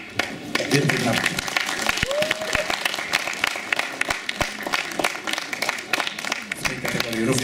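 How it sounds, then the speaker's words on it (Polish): Applause from the audience at a ballroom dance competition as couples in the 10–11 advanced category are invited onto the floor, steady clapping under an announcer's voice. "Wielkie brawa."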